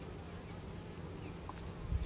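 Honey bees buzz steadily around an open beehive during an inspection, a faint, even drone with a high whine, no voices.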